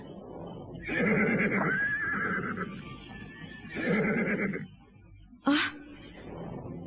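Horse neighs twice in long, loud, quavering whinnies, followed by a sharp shorter squeal, heard clearly in a quiet outdoor scene with faint rustling between calls.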